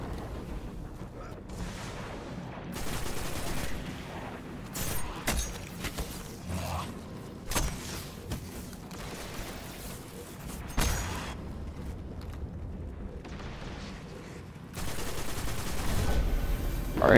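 Gunfire from the video game Destiny crackles through the whole stretch in dense bursts and rapid volleys, with heavier blasts mixed in, while someone talks over the action.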